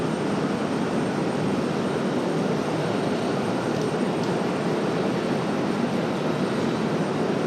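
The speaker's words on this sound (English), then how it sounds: "A couple of A220s, an A220 and an A321 making their way out" Airbus A220 and A321 jets departing RDU, a steady broadband roar of jet engines holding loud and constant throughout, with no voices.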